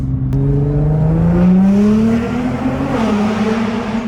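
Nissan GT-R accelerating hard, heard from inside the car as a loud engine roar climbing steadily in pitch through a gear, then dipping slightly as it shifts and pulls again, no talk.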